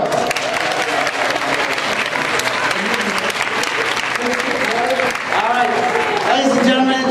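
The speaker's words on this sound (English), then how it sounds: "Huge round of applause" An audience at a live science demonstration hour bursts into sustained, loud applause for a volunteer walking on stage, with cheering voices and an announcer talking over the clapping.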